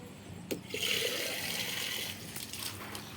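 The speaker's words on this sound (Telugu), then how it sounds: "చెట్లకి వాటర్ పోద్దాం రండి" Water splashes and gushes steadily onto garden plants at a home vegetable patch, a continuous moderately loud pour that swells after a brief start and runs on alone.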